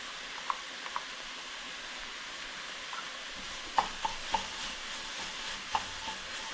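Beef stew with diced celery and a small can of tomato paste being stirred in a pot, giving faint scattered clinks and scrapes of a utensil against the pot over a low, quiet background.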